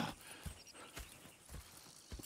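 Horse hooves clip-clopping in Red Dead Redemption 2, a few faint, evenly spaced hoofbeats at walking pace, quiet and somewhat distant.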